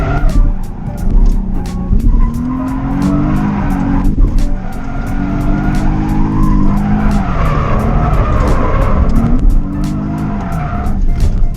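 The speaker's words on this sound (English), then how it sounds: "My rear coilover. I can hear it scraping." Car drifting inside an abandoned warehouse, with long loud tire squeals rising and falling over a steady engine roar, echoing in the enclosed space for several seconds, with repeated sharp clicks or scrapes throughout.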